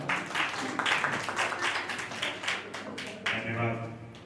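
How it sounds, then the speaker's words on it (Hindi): An audience at a Swachhta cleanliness awareness programme claps to welcome a guest speaker, a dense patter of applause filling the room while a voice talks over it. "जोरदार तालियों से बाबा जी का स्वागत"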